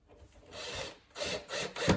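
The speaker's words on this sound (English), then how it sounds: "So all we need to do now is screw the frame to the top." Screws are driven to fix a wooden frame to a furniture top during flat-pack assembly, heard as close, repeated grinding and rubbing bursts with short pauses between them and no talking.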